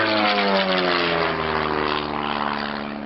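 A vintage propeller aeroplane engine drones steadily during an aerobatic stall turn at a 1986 air display, a rich continuous tone that slowly sinks in pitch and fades a little as the aircraft pulls around.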